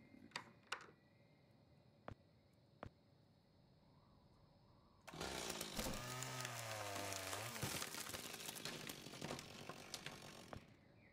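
A chainsaw from The Silent Age video game roars to life after a few quiet clicks, then runs loud and continuous for about six seconds with a revving, wavering pitch.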